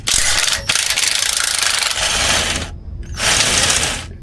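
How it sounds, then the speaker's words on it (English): A ratchet wrench working a 10 millimeter bolt loose from an engine during removal; loud, close, continuous rapid clicking that breaks off briefly twice, then resumes. "now I'm just going to get the bottom bolt off"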